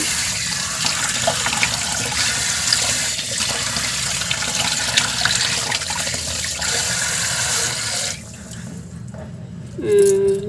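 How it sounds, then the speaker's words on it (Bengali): Dishes are washed under running tap water, a steady rushing stream that cuts off near the end, followed by a short clink. "বাসন ধুয়ে দিচ্ছে"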